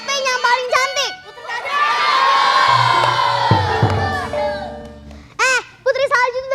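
A live audience at an Indonesian lenong comedy show, many young voices shouting an answer together in a loud sustained chorus, with individual performers talking before and after.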